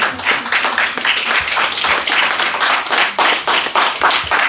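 A church congregation claps together in fast, steady rhythmic applause, loud and close, with a few voices mixed into the clapping.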